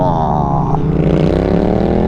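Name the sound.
Kawasaki motorcycle engine revving with new exhaust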